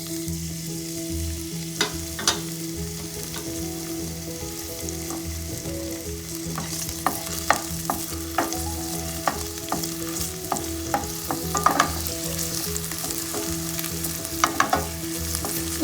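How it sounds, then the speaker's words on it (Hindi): Finely chopped garlic sautés with onion in a hot pan, a steady close sizzle running throughout with frequent light clicks and scrapes of a stirring spoon, no voices. "बारीक बारीक काट लिया और इसको मैं प्याज के साथ उसको मिला सौते करूँगी"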